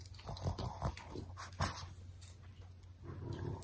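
A dog crunches and chews a homemade cinnamon-sugar dog biscuit up close, with bursts of crisp biting and gnawing repeating in an irregular rhythm.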